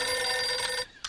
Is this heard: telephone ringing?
yes